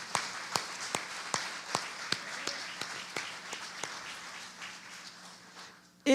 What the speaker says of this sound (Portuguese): Vamos dar uma salva de palmas a Deus,